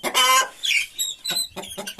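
Chickens clucking and squawking in short bursts in a closed pen, close by, with a brief higher cry in between; no one speaks.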